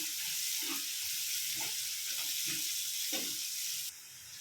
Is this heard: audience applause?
no